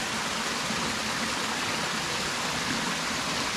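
Mountain spring water flowing at a farm resort in Carmen, Cebu: a dense, steady rushing wash of water, close and continuous with no talk.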